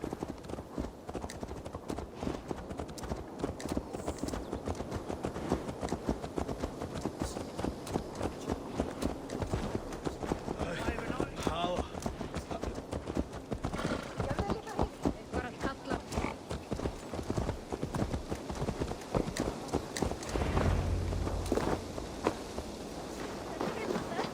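Horse hooves clip-clop steadily in Assassin's Creed Valhalla, a continuous rhythmic trot heard close with game ambience and occasional insect buzz, while voices talk intermittently over it.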